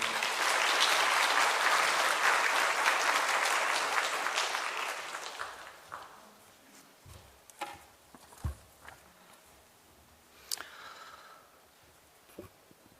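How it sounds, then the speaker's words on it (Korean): A church congregation applauds to welcome a pastor: dense, loud clapping for about four seconds that thins and fades out, leaving a quiet room with scattered small knocks and shuffles. "박수로 맞아주시면 고맙겠습니다."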